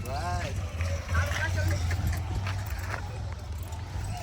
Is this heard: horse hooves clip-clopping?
yes